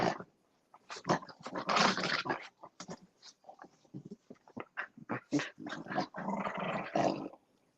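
Several dogs growl in bursts at someone arriving home, low rumbling snarls and throaty vocalizations in irregular overlapping clusters, fairly close and without talk.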